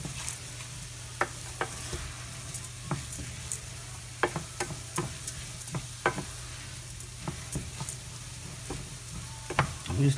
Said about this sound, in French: Là, on va nacrer un peu le riz.